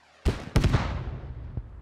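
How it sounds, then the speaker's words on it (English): Gunfire in the tactical shooter game Squad, where a firefight targets an MT-LB armored vehicle: a sharp report, then a quick cluster of cracks with a rolling echo tail, and one fainter shot near the end. "Shots going at the MTLB."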